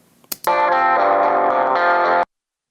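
A distorted electric guitar chord rings out after two quick muted plucks, sustaining loudly for about two seconds before cutting off abruptly.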